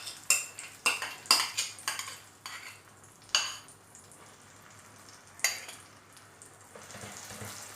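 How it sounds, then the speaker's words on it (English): An onion, tomato, cashew, ginger and garlic paste fries in oil in a pan while a utensil stirs it. Repeated sharp metallic scrapes and clinks sound close, over a soft steady sizzle, with no talking. "And fry until the oil separates."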